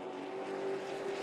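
Spears Pro Late Model stock cars racing at Irwindale Speedway produce a brief, steady engine whine at a distance, fairly faint under a broad crowd and track wash.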